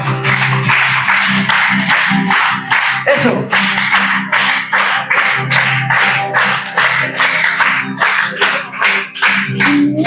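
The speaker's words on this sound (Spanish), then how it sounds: "Si nos podéis ayudar con las palmas." A church congregation claps hands in a steady, quick rhythm during a worship song at a retreat gathering, the claps loud and evenly spaced throughout over singing and music.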